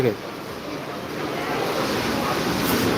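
Surf washes onto Digha beach in heavy rain, a steady rushing wash mixed with wind buffeting the microphone, swelling slightly louder toward the end.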